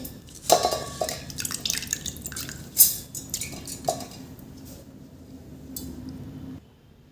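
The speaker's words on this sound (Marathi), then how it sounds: "हे तांदूळ आपल्याला यामध्ये घालून घ्यायचे आहे।" Rice grains pour into a mixer grinder jar with a quick rattling patter and a few sharp clinks of grains on the jar, then the sound thins to quiet.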